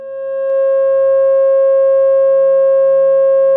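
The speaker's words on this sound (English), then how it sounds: "They are F sharp and its perfect harmonic fifth of C sharp." Two pure sine tones, F sharp and C sharp a perfect fifth apart, sound together as a loud, steady, unbroken hum that holds constant throughout after a quick fade-in.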